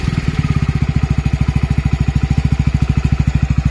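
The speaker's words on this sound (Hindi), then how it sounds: "तो ऐसी कुछ इंजन की आवाज़ रहती है।" A Hero Splendor motorcycle engine idles steadily nearby, a regular rapid chugging pulse with no talking.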